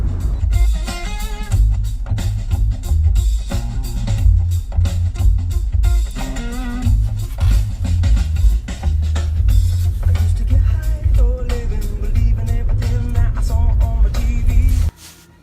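A car drives along with a steady low road and engine rumble throughout, largely covered by loud music playing inside the cabin, until the sound cuts off near the end.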